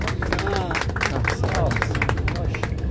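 Group of listeners clapping close by, a dense, busy patter of hands with crowd babble and a voice over it, loud and continuous for a few seconds.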